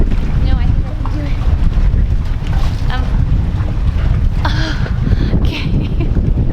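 Strong wind buffets the microphone in constant roaring gusts on a sailboat, with water sloshing nearby and some faint voices mixed in.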